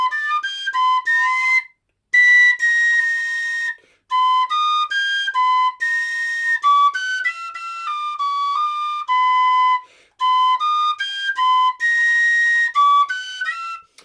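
A tin whistle plays a lively melodic phrase from a Bach bourrée, clear and close, with crisp separated notes and brief pauses between phrases.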